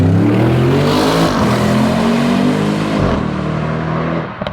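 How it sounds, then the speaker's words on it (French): An Audi RS6 estate charges past at full throttle, its loud engine note climbing and shifting through gears in a sustained roar that trails off abruptly at the end. "Putain, ça roule une RS6 aussi, Raoul."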